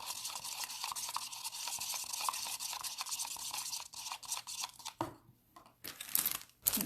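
Two-part mould mixture stirred briskly in a small container, a close, continuous scraping and swishing rhythm that stops near the end, leaving a few faint clicks and rustles.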